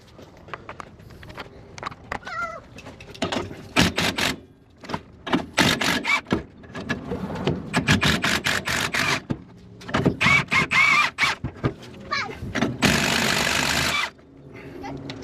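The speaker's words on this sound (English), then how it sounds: "now we're gonna remove the 4 bolts or the 4 nuts on top of the leaf spring" Wrench work on the 18 mm nuts atop a Ford Ranger's leaf spring: bursts of metallic ratcheting and clinking, close and fairly loud, with short pauses between runs.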